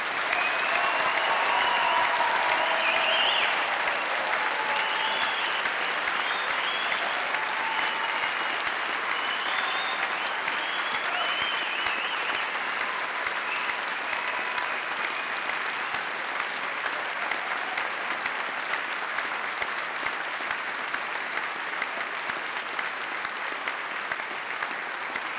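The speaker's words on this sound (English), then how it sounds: "what I'm hoping for is a really rousing round of applause in both directions" Graduation ceremony crowd giving a long, sustained round of applause, a dense continuous clatter of many hands that stays loud and steady, with faint cheers or voices mixed in near the start.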